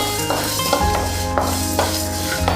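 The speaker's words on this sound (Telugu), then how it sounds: "ఒక స్పూన్ నువ్వులు వేస్తున్నాను" Sesame seeds roast in a dry pan as they are stirred, giving a close, continuous crackle with a few scraping stirs over a steady hum; no talk.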